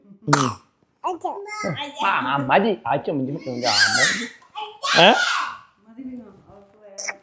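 A child coughs in a few sharp bursts, mixed with close-up childish babbling, vocal sounds and a little laughter.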